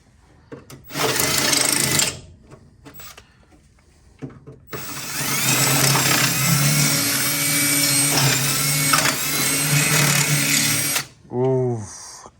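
An electric drill reams holes in metal for a drift car oil catch can, with short loud bursts, then a long sustained grinding run, and a person speaking briefly between bursts.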